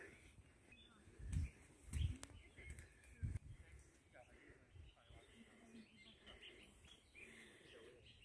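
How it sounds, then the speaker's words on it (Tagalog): Faint birds chirp in the distance against a quiet outdoor backdrop on the Wilson Trail in Hong Kong, with occasional low thumps and voices nearby. "Yan ang maririnig mo yung mga huni lang ng ibon."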